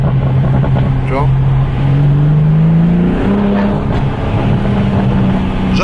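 A BMW M4 with a full straight-pipe exhaust gives a loud, metallic, motorbike-like rasp, holding a droning note with pitch rising and falling through revs, close up, with voices talking over it.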